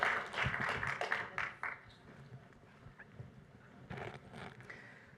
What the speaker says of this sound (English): So please, a round of applause to welcome Salome.